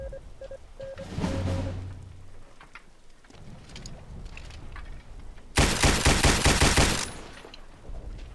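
Machine gun fire in a Roblox war game: rapid, dense bursts of gunfire, one short volley early on and a louder sustained burst near the end, with quieter game noise between.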